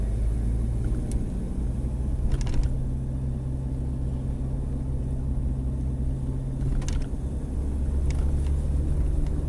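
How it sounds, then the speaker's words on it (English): A car drives steadily along a road, its low engine rumble and road noise continuous throughout, with a few faint higher clicks and knocks from inside the cabin. "we're driving past Ben Forsted"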